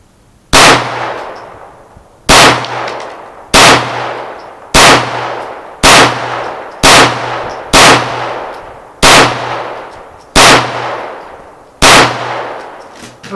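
A Ruger Mark III pistol fires through a magazine of ammunition, ten sharp, loud shots at slightly uneven intervals of about a second, each leaving a short ringing decay outdoors.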